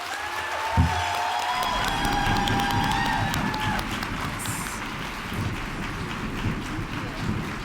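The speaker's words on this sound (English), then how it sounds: "Please give a round of applause for our keynote speaker" An audience at an adviser summit claps for the keynote speaker, a dense, sustained wash of applause that stays loud throughout, with a few faint tonal sounds near the start.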